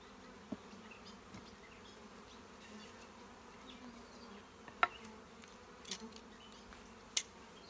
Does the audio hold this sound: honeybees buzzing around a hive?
yes